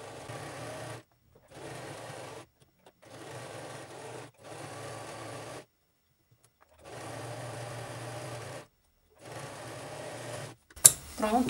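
Sewing machine stitching a dress seam right along the edge over a padded bra cup, running slowly in six steady bursts separated by short pauses, fairly close, with a sharp clatter at the end.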